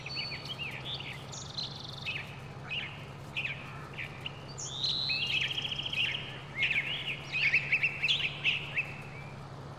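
Songbirds chirp and twitter outdoors beside a window, a lively run of varied calls rising in clusters over a steady low hum, busiest toward the end, with no talking.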